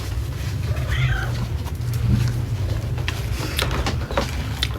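A cat meows and yowls several times close by, with drawn-out wavering cries over a steady low background hum and faint voices.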